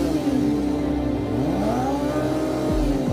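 A powerful 2020 motorcycle engine revs hard alone and close up, the pitch climbing and falling through several throttle blips before a final deep drop.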